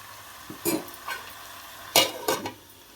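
Food in a sizzling pan shifted and scraped in a few quick bursts, with short swishing strokes separated by quieter frying.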